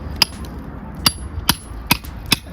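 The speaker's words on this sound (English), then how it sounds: "I've got a chisel, I've got a second chisel here which I may be using, and then I've got a pretty strong hammer" A strong hammer strikes a chisel to knock out a loose floor tile set in thin-set mortar, giving five sharp metallic clinks at a slow, irregular pace, close and distinct over quiet room noise.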